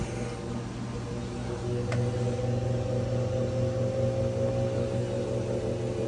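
A Whirlpool washing machine drum whirs through its final spin cycle with a loaded blanket inside, a steady close motor hum and rushing drone that rises slightly in pitch and holds smooth.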